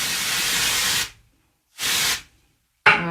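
A handheld spray bottle mists hair wefts in two long, steady hissing bursts separated by silence, then the start of a third short burst, close and fairly loud with no talking.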